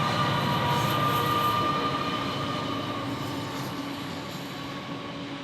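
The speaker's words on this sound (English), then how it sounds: "that train just came through" A freight train rumbles past nearby on the New South Wales Main South Line at Gunning, a steady heavy roll of wheels on rails that slowly fades as it moves away.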